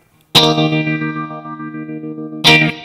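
Electric guitar through a Nux Mighty Air amp with tremolo engaged: a loud strummed chord rings and pulses in volume, then a second strum starts near the end, with no voices.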